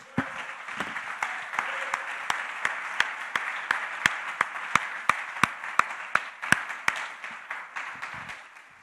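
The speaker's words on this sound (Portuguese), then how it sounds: "Eu posso ver um grande aplauso a Jesus?" A church congregation gives Jesus a big round of applause, steady crowd clapping that swells with sharp, rhythmic accents near the end before fading out.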